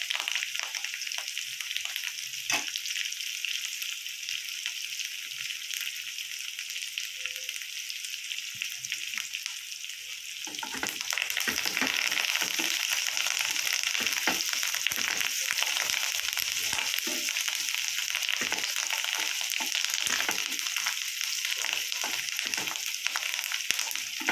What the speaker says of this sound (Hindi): अदा रसुण सांगे आम ये भुसुंग पत्र पकईदबा।